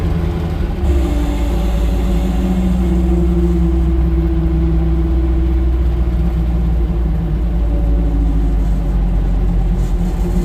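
Brush mower tractor engine running loud and close, a steady low rumbling drone with a constant hum throughout, no talking.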